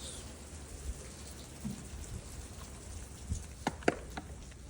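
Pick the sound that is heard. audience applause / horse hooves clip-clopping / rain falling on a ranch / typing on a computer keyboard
rain falling on a ranch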